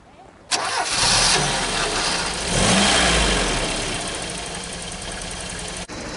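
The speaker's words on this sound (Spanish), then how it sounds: "Vamos a poner en marcha esta unidad para que veáis el ruido del ralentí y su funcionamiento" The original engine of a 1986 Opel Manta GSI cranks and catches with a loud burst, briefly revs, then settles into a steady, rough-edged idle close by, with no talking.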